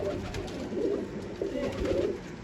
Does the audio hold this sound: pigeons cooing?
yes